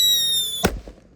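A Happy Power 3 blue firecracker explodes in a hole in the ground, giving one loud, sharp, close bang with a short rumbling tail. A steady high whine plays before the bang.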